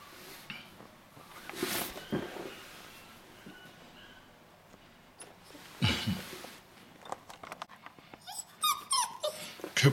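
A 5.5-week-old Bully Kutta puppy whimpers and yips in faint, intermittent bursts, soft and close, with scattered rustling and movement noises between the cries.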